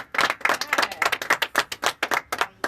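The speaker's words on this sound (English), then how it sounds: "we got to clap that up" Claps from a studio audience on a local politics talk show ring out as distinct, fairly quick strikes, close and crisp, in a loose irregular rhythm with no talking over them.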